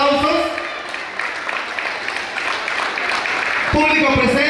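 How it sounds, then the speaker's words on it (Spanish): Audience applause at a preschool graduation ceremony, a steady wash of clapping lasting throughout, with an announcer's voice speaking over it at the start and end. "Fuertes los aplausos, por favor, nuevamente."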